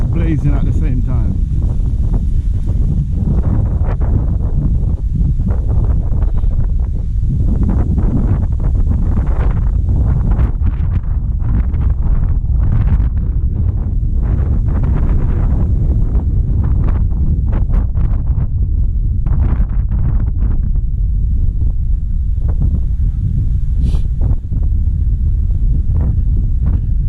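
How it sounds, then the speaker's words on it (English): Strong wind buffets the microphone continuously outside Sheffield Winter Garden, a loud low rumble with gusty bursts throughout. "It's windy,"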